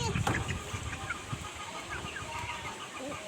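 Chickens cluck and murmur in a farmyard coop, a steady low flock chatter close by with a brief louder burst at the start.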